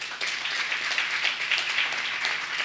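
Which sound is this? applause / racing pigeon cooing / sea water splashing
applause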